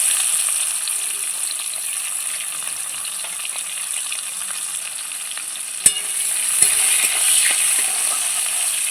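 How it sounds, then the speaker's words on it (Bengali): Chopped onions frying in a pan with whole garam masala and cumin, a steady close sizzle lasting throughout, with a couple of sharp clicks or knocks partway through and a slight swell near the end. "পেঁয়াজটা একটু লাল করে ভেজে নেবো"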